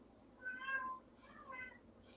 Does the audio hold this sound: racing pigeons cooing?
no